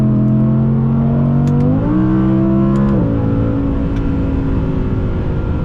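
An Audi R8 Performance engine revs loudly and continuously from inside the car, its steady drone stepping up in pitch twice as it accelerates while driving on a winter road.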